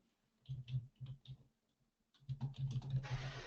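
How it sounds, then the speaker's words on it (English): Computer keyboard typing during a website-management webinar: a few short bursts of keystrokes, a pause, then a denser run of clicking that ends under a soft hiss, close and fairly quiet. "what am I typing?"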